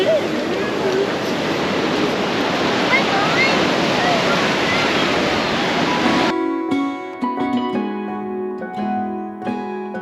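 Ocean waves rolling onto a dangerous Sydney beach make a loud, steady roaring wash of surf with wind buffeting, cutting off abruptly partway through into quieter background.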